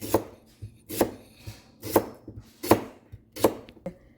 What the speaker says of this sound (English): you just slice it small so you can add it in with the skin